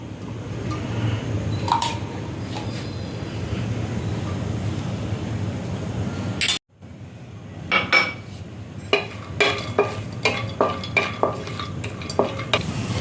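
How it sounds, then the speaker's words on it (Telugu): Cashews fry in ghee in a pan with a close, soft sizzle. After a brief cut, sharp metallic clinks and scrapes of a spoon against the pan repeat in an irregular rhythm. "వేరే బాండి పెట్టుకుని నెయ్యి వేసుకుని జీడిపప్పు వేపుకోవాలి"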